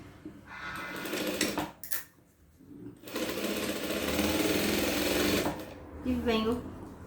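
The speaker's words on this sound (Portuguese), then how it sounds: "eu vou continuar a minha costura aqui, ó, começando a cava" A sewing machine stitches the armhole of a festa junina vest in close bursts of whirring that start, stop briefly and run again, while someone talks over and between the stitching.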